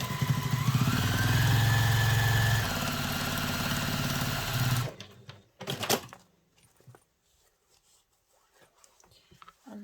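A sewing machine runs a seam on a travel satchel with a loud, steady motor hum and a brief pitch rise, then stops abruptly, followed by quiet handling clicks and faint rustling.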